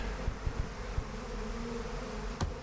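Bees buzz steadily in the video game Massive Chalice, a continuous insect drone at moderate volume broken by a few soft thumps and a brief click.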